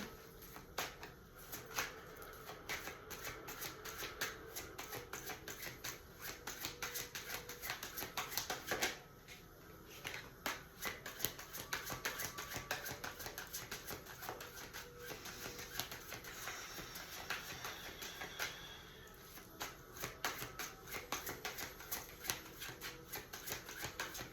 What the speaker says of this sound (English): And just do one more shuffle since I threw that in there.